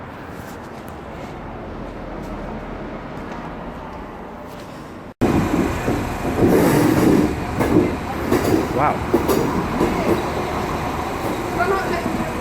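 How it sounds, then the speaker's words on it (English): Interior of a moving Irish commuter train in Dublin: a quiet rolling hum gives way after a sharp cut to a louder, rumbling ride with rattles and clatter, and a man briefly exclaims. "This Irish train's incredible."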